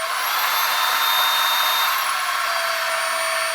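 A MooSoo K17U cordless handheld vacuum cleaner with a motorized head runs loud and steady close by, a constant high-pitched whine and rushing airflow whose tone shifts slightly partway through.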